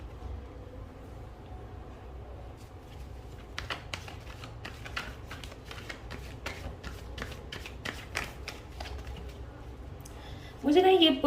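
Tarot cards handled, shuffled and flipped make a run of quick papery riffles and soft slaps under a quiet room tone, ending in a brief louder rustle.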